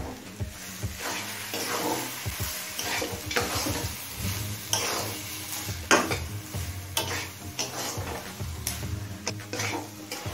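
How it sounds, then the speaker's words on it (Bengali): Fried peanuts being stirred into a potato vegetable-chop mixture in a pan: rhythmic scraping and shuffling of the spoon through the mash over a soft, continuous sizzle, close up. "বাদামটা দিয়ে মেশানো হয়ে গেছে।"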